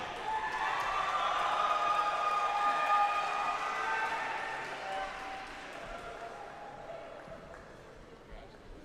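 Sustained applause from a commencement ceremony audience for music school bachelor's degree graduates, a broad, even wash of many hands with scattered cheers that gradually fades over nine seconds.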